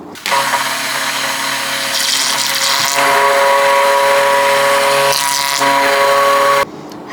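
A hand blender churning butter whirs loudly and steadily with a whining motor hum, shifting pitch slightly as it churns, then cuts off abruptly near the end.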